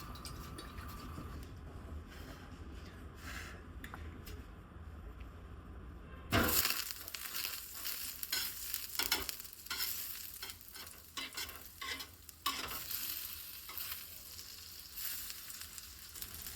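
Fish frying in oil and a little butter in a pan, a soft steady sizzle that bursts louder and crackles as the fish goes in, then keeps spitting and popping close by.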